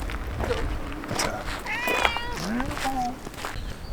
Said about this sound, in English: Looks like a bit of a feral cat, this one